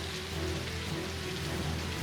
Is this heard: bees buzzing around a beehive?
no